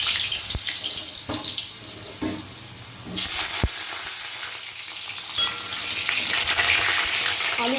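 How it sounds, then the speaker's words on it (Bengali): Diced potatoes fry in hot oil in a kadai, giving a steady, close crackling sizzle with a few sharp clinks of a spatula against the pan. "আলুটাকে একটু ভেজে নেব"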